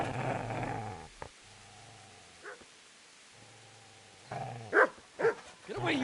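Dog growling in the medieval RPG Kingdom Come: Deliverance, low rumbling growls with a couple of sharper snarling bursts toward the end, close and moderately loud.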